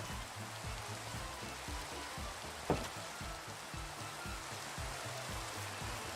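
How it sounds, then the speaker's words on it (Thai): Steady heavy rain hisses in Minecraft, an even wash of drops that carries on throughout the clip, with a single brief louder crackle partway through and a low rhythmic rumble of game sound underneath. "เปิดไลท์เนี่ยฝนตกทุกรอบเลย"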